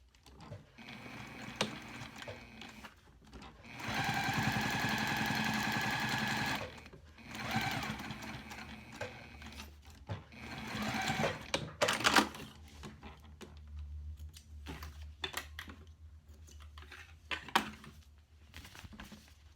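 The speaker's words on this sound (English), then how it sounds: "I'm going to pop to the machine and top stitch just along there." A sewing machine top stitches along the edge of a wallet, running in a steady close burst of a few seconds, with softer handling clicks and brief pauses around it and no talking.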